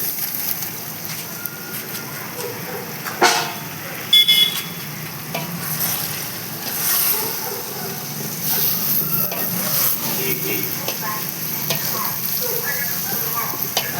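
Tomatoes, 1.5 kg of them, sautéing in oil in a large covered pot for marriage-style vegetable biryani, giving a steady soft sizzle with occasional stirring scrapes and clatters.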